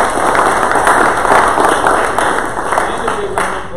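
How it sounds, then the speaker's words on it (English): An audience at a panel forum on food, agriculture and natural resources applauds the panelists, a dense burst of clapping that stays loud and slowly thins out. "Big round of applause for our panelists"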